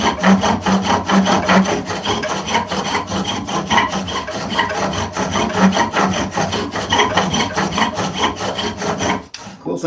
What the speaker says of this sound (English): what I would do is take this rasp and kind of rough it out some more.